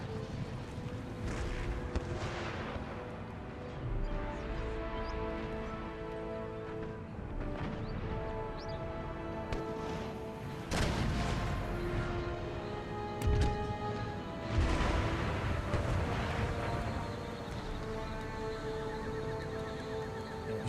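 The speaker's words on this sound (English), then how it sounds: "Shooting my howitzers." Howitzers boom in Empire: Total War, heavy artillery blasts thudding at irregular intervals amid a battlefield din of horses whinnying and hooves, with rumbling reports building in the middle and later stretch.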